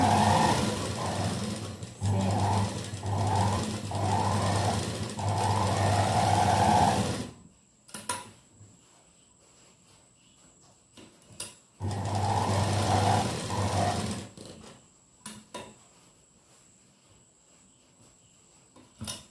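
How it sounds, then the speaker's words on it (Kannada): A sewing machine stitches the lining of a chudidar in two loud bursts of steady rapid whirring, each several seconds long, with quiet pauses between them filled by faint handling clicks. "ಕಾಲು ಇಂಚಲ್ಲಿ ಸ್ಟಿಚ್ ಮಾಡ್ತಾ ಇದ್ದಾರೆ ನೋಡಿ"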